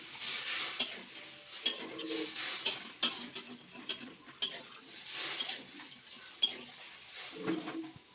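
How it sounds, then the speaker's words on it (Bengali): Meat being stirred in a wok for chicken momo, a broad airy hiss under a steady string of sharp scraping clacks from a metal utensil, irregular and fairly close, with no talking. "মাংসটা নেড়ে নিচ্ছি, কড়াতে নেড়ে দেবো।"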